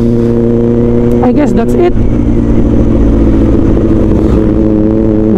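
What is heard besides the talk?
2024 Kawasaki Ninja ZX4RR motorcycle engine revving, Austen Racing muffler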